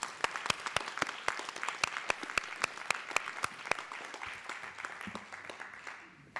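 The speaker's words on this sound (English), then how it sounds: "Can we give Shanae another round of applause" Audience at a panel discussion applauding a speaker, steady rhythmic clapping from a fairly small crowd that continues evenly for several seconds and tapers slightly toward the end, with faint murmuring beneath.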